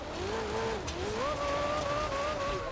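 A 2016 Alfa Romeo Giulia Quadrifoglio, Forza Edition, racing a hill climb in Forza, its engine screaming at high revs with a rising, wavering tone held throughout, loud and continuous.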